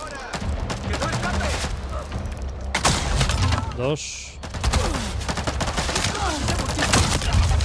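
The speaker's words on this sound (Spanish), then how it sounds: "Increíble disparo ese, ¿eh?" Gunfire from the video game Avatar: Frontiers of Pandora, a burst of rapid shots and loud cracks repeating through the clip with game music and sound effects underneath, while someone comments over it.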